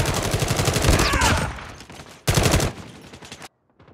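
Rapid automatic gunfire bursts from the mobile shooter Call of Duty Mobile crackle loudly and densely for about two seconds, pause briefly, then return in a shorter bursting volley before cutting to silence.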